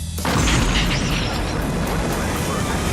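An explosion from the action film Longshot, part of a scene with helicopters and a car chase: a loud, dense blast that erupts abruptly and keeps rumbling and roaring for the rest of the moment, with no talk over it.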